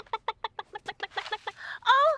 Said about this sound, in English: I'm looking after Moo's chickens.